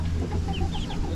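Hens cluck softly in short, scattered calls over a steady low rumble of background noise, with no voices.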